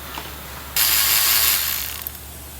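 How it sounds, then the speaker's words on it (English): A 17 mm open-end wrench working the high-pressure fuel line fitting during a camshaft replacement, giving one sustained close metallic ratcheting rasp that fades slightly toward the end. "17 mil open end wrench for the high pressure fuel"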